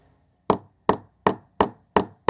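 Six sharp, evenly spaced hammer blows reset raised galvanized nails in the boards of an older wooden deck being refreshed, each strike close and loud with a quick decay, and no talking in between.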